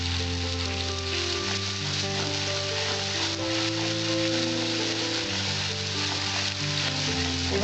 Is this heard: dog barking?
no